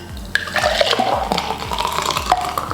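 Fresh homemade juice pours into a tall glass, a close, continuous liquid splash and gurgle with a few sharper drips and glugs as the stream lands.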